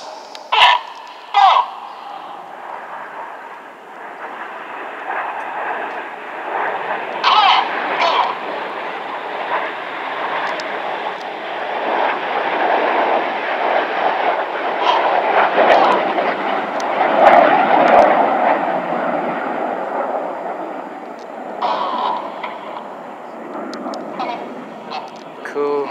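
RAF Red Arrows jets perform a flying display at Epsom College, a loud, sustained jet roar swelling and fading overhead as the formation passes, with brief sharp bursts and people talking in the background.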